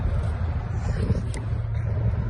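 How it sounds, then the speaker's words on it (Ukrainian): Yanmar F-255 Japanese mini tractor with its diesel engine running, a steady low rumbling throb that stays loud and constant throughout, with no talking. "давайте ще заведемо його, нашого великого міні-трактора"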